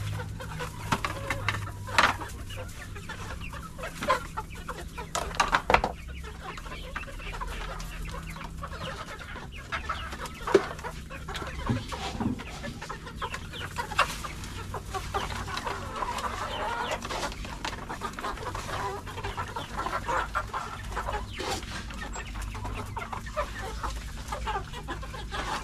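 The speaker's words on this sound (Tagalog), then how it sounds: "Gutom na yung mga manok ko mga kanoypi." Hungry Decal White chickens, about 45 days old, clucking in a flock at close range, with scattered squawks and a rooster-like call or two rising over a low background hum.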